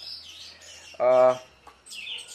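A male red-headed thrush (anis merah) kept as a cage bird sings high, sweeping chirps, with one brief lower harmonic call in the middle, close and clear.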